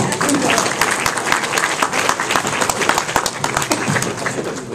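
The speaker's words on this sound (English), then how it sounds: "A big round of applause." Applause from a convention audience at an anime expo games panel, lively close clapping with sharp individual claps standing out, cheering and voices mixed in, fading slightly at the end.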